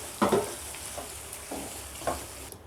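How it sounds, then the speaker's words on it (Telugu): Mutton keema being stirred and mixed in a hot pan with fried masala, giving a few scraping, sizzling strokes spaced about a second apart, close by and fairly quiet, with no one talking. "కీమా యాడ్ చేసి మొత్తం బాగా కలుపుకోవాలి."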